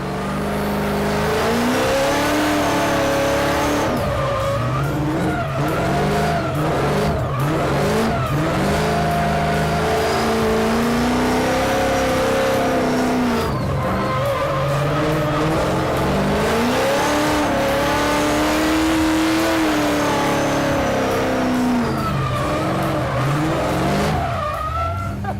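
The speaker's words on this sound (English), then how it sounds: "Let's go drift." An 800 hp Nissan 350Z drifting on a skid pad, its engine revving up and down in repeated surging waves while tires squeal continuously, loud and close with no talking.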